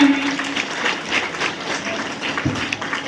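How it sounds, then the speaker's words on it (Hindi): A crowd claps steadily at a Guru Ravidas Jayanti ceremony at a Guru Ravidas temple, a continuous, even patter of applause from a gathered audience, with a short voice heard at the start. "ताली बजाते रहिए।"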